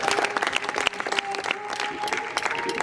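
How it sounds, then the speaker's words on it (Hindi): Loud, dense applause from a large audience at a Ram Navami gathering at Patanjali in Haridwar, sustained clapping throughout with no pause. "एक बार जोरदार ताली के साथ।"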